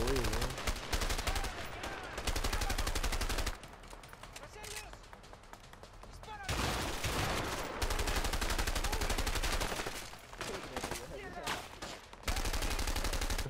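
Gunfire from the video game A Way Out comes in dense, rapid, loud bursts of automatic and single shots, broken by short quieter gaps, with players talking over it.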